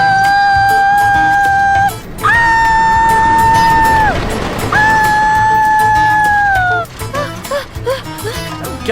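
A girl screams on a fast amusement park ride in three long, loud, sustained shrieks with short breaks for breath. A noisy rumble of the ride follows.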